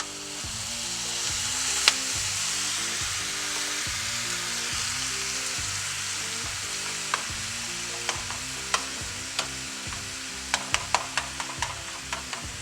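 Wild hog meat simmers in crock pot juice in a pan, sizzling steadily with a bubbling hiss, while sharp pops and spatters crackle irregularly, growing more frequent toward the end.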